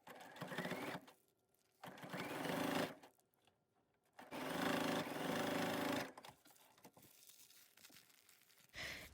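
A sewing machine stitches in short separate bursts around a paper-pieced string quilt block made from fabric strips, close and fairly quiet, with paper rustling and handling noises in the gaps.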